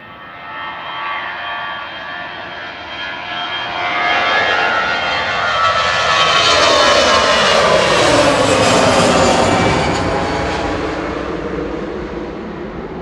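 Airbus A320 Classic jet on its takeoff roll at Manchester Airport, a broad engine roar building steadily from moderate to loud, peaking mid-clip and easing slightly as it passes, heard from a distance with no talk.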